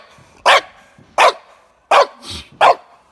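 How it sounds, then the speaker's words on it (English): A dog barks four times close by, sharp loud barks spaced about evenly, with a softer low grunt between the third and fourth. "Stop barking!"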